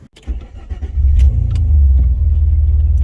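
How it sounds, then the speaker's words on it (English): An Alfa Romeo GTV pulls away on a test drive: a deep engine rumble swells up after a brief start and then holds steady and strong close by, with no talking. "let's go and take it for a test drive and see how it drives"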